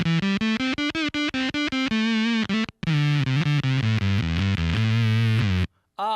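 Electric guitar played through a FuzzRocious Blast Furnace fuzz pedal, loud and close: a run of rapid staccato picked notes, a brief cut, then longer sustained saturated notes and bends before a sudden stop.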